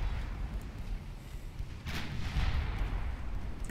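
Naval gunfire from 2-inch guns in the video game Ultimate Admiral Dreadnoughts booms in a continuous rumbling barrage, with a sharper burst midway amid low explosive thunder.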